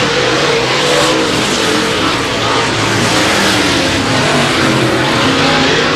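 Race cars roar loudly and continuously through a heat race at Heart O Texas Speedway, engines snarling and blending together at close range without a break.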